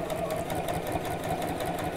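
Domestic sewing machine with feed dogs lowered, stitching free-motion around a circle on fabric, a steady continuous motor whir with rapid needle chatter, close and loud, running alone throughout.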